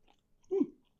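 Someone chews a bite of homemade spinach and ricotta ravioli made with egg, garlic, lemon and Parmesan: one brief, close, soft mouthful of moist chewing in a quiet room, with no talk.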